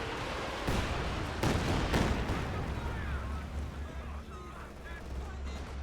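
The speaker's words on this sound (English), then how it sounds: "heavy barrage forcing away the precious units from the OKW" Artillery barrage in a real-time strategy video game, a few heavy booming impacts early on that give way to a low rumbling battle din, with a commentator talking over it.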